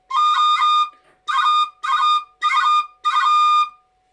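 Tin whistle playing a cran ornament, five short bright bursts in a steady rhythm with brief gaps between them, each one rippling with quick cut notes, close and solo.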